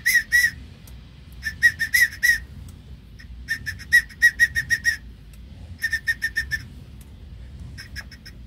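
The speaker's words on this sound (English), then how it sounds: "Now slowly the whistle will go away" A thin, high-pitched whistle from a TDC whistle tool in an engine cylinder chirps in short repeated bursts, clustered in quick groups separated by pauses, over a faint low rumble, while finding top dead center on cylinder one.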